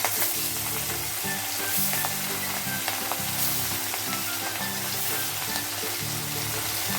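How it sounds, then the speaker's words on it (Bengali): Hilsa fish fries in hot oil in a wok for a mustard hilsa dish, making a steady, close sizzle with bubbling and crackling throughout and no voices. "মাছটা আমি হালকা ভাজা করব"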